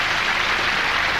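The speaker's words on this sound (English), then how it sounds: "Nice round of applause." Audience applause at a 1994 Paul Daniels magic show, a brief dense wash of clapping heard at moderate distance.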